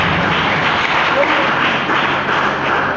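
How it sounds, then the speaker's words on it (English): Audience applause at a business masterclass event, a dense steady wash of many hands clapping throughout, moderately loud and even, with no distinct voices standing out. "Can we give a round of applause?"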